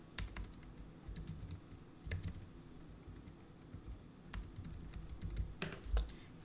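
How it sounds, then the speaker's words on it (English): An email address typed on a computer keyboard, a soft irregular run of close key taps and clicks with small pauses between bursts, faint and steady. "you need to type in uh, your email"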